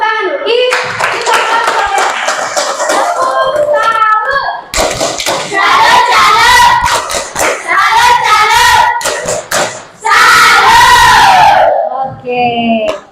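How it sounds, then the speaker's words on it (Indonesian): A classroom group of students clapping together, loud and close, with children's voices and cheering mixed through and over the applause in several bursts. "Tepuk tangan dulu."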